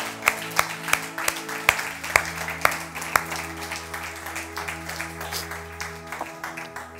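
A church congregation claps in praise, opening with a few sharp, distinct claps before settling into a steady ripple of applause over a sustained instrumental drone.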